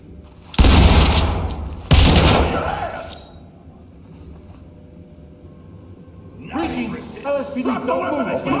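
Two loud, close shotgun blasts in the tactical shooter game Ready or Not, about a second apart, each booming and then decaying, followed by quieter movement and shouted voices.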